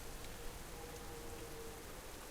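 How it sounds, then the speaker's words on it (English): Steady rain in a World of Warcraft-style MMO, a faint, even hiss of falling drops continuing unchanged throughout without talk. "Who turned on the rain?"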